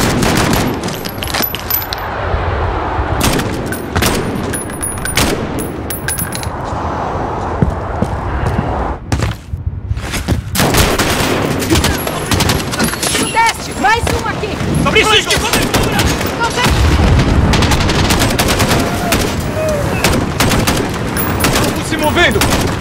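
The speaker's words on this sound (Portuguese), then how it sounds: "Isso é o som de uma arma e não de um airsoft." Gunfire in the video game Call of Duty: Modern Warfare (2019), with loud, dense bursts of automatic weapon fire and rapid shots amid chaotic in-game combat noise and effects, close and continuous throughout.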